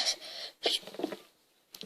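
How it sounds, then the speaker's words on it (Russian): A woman sneezes, a sharp close burst followed by a brief breathy catch and small vocal sounds, then near silence before a short noise at the end. "чихнула."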